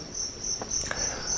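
Two-spotted crickets on an edible insect farm trill in a steady, shrill, continuous chirp, close and constant, with a few faint knocks underneath.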